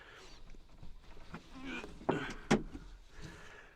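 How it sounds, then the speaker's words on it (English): A flimsy bathroom door in a motorhome rattles and clicks as it is handled, two sharp knocks standing out against quiet rustling, close by. "The door is horrible"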